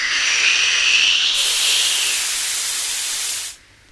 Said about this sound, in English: James let off steam.